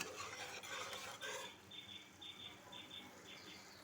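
A spice masala being stirred in a pan for Kashmiri dum aloo, with salt and a little sugar, gives soft scraping and faint sizzling, then a series of light metallic squeaks from the spoon against the pan.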